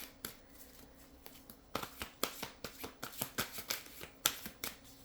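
A deck of cards being shuffled by hand, a quiet start giving way to a quick run of crisp riffling flutters and taps, close and soft, with no voices.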